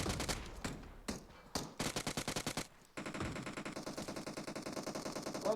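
Rapid automatic gunfire in PUBG on the Erangel map, long bursts of sharp, evenly spaced shots broken by short pauses, then a steady stream of fire, loud and close.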